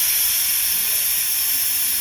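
A pressure cooker boiling potatoes and chickpeas together gives a steady, loud hiss of escaping steam that runs unbroken from start to end, with no voices over it.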